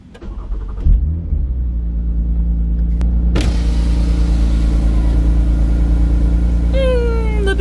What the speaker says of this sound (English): let's get this cold start started